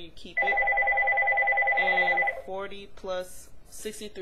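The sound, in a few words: phone ringing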